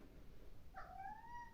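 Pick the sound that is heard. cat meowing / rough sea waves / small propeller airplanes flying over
cat meowing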